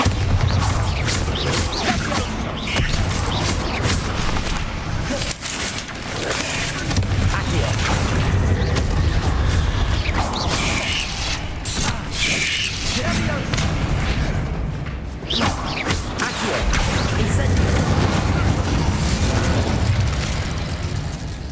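In the Hogwarts Legacy video game, a Bombarda spell explosion lands as a heavy boom and crackling blast, with rumbling bursts over a dense game soundscape that carries spoken voices.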